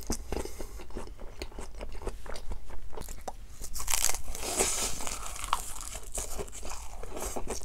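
Crunchy bites and crackling tears of dried laver seaweed (gim) eaten close to the mic in ASMR style, a steady run of crisp crunches and rustles with no talking.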